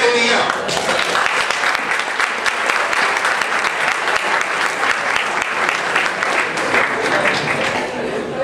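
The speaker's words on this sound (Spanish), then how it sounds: "fuerte aplauso al ingeniero Freddy." An auditorium audience at a university rector candidates' forum gives engineer Freddy a strong round of applause. The clapping is dense, loud and sustained, and voices mix in beneath it.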